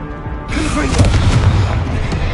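A Confringo blasting spell from Hogwarts Legacy erupts in a loud, booming burst that swells suddenly and holds as a rumbling, crackling roar.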